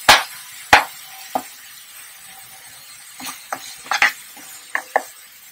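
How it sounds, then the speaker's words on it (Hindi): Dabeli masala with tamarind chutney is stirred in a pan, giving a few sharp, sparse clinks and scrapes of a spatula against metal over a faint low sizzle, close up with quiet pauses between. "जैसे थोड़ा सा हम 2 मिनट के लिए फ्राई करेंगे।"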